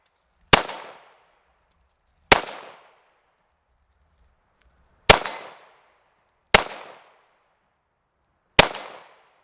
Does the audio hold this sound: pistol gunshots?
yes